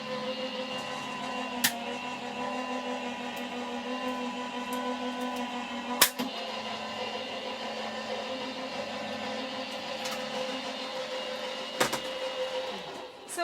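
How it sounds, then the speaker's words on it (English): Gemini die cutting machine running steadily during a crafting session, a continuous mechanical drone with a few sharp clicks and knocks, fairly loud and alone without talk. "sorry about the noise again, but we'll just get this bit of die cutting out of the way"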